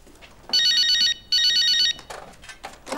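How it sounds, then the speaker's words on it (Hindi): A telephone rings indoors in two loud electronic bursts, each about half a second long, followed by faint background noise and soft scattered sounds. "अच्छा जाओ देखो फोन किसका है"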